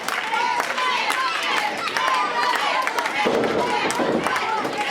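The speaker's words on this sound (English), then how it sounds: "We got a ruckus crowd." A rowdy crowd cheers and claps steadily at an indie wrestling show, with shouts and whoops layered over continuous applause. A commentator talks over the noise.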